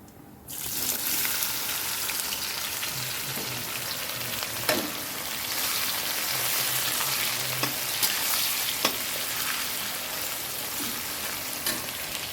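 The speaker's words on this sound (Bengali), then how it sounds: "এবার পেঁয়াজ দেবো এর মধ্যে" Onions hit hot oil in a kadai already holding whole cumin, bay leaf and dried chillies, bursting into a loud, close, sustained sizzle with a few stirring clicks and no speech.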